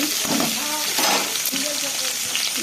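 Green chili dropped into hot oil: a loud, continuous sizzle and spatter up close, with a voice talking over the frying.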